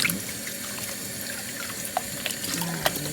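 Golden oyster mushrooms are washed under running water in a sink, with a continuous close splashing flow and a few soft knocks as they are handled.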